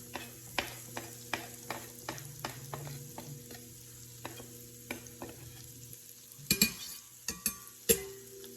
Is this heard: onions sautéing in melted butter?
yes